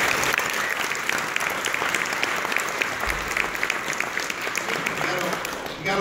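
An audience claps steadily at a high school jazz band concert, a dense, loud wash of applause from a full room that holds without pause.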